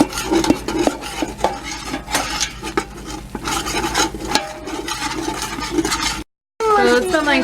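Roux of flour and butter being stirred in a pot for crawfish étouffée, a steady scraping and rubbing of a spoon against the pot bottom that repeats throughout, close and fairly loud, with a brief gap of silence near the end.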